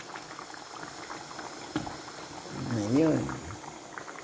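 Dinuguan, a pork blood stew, bubbles and simmers in a pot with soft, irregular blips and gurgles, while people talk nearby in Filipino.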